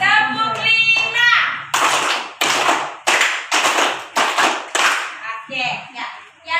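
Schoolchildren in an Indonesian classroom chant briefly and then clap in unison: about five distinct, loud, close group claps spaced in a steady rhythm, with voices chanting between and after them.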